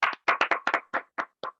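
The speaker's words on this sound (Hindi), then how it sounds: "दोस्तों एक जोरदार तालियां।" A short burst of hand claps from an audience at a training session, about nine distinct claps tapering off within under two seconds, with no talking.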